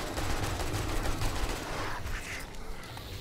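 AK-47 gunfire in the video game 7 Days to Die, heard as a sustained, dense burst of automatic fire throughout, fairly loud with no clear talk.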